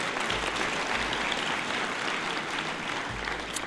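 Audience applause at a Montana jobs summit, a steady wash of clapping from a crowd that carries on for several seconds with no talking over it.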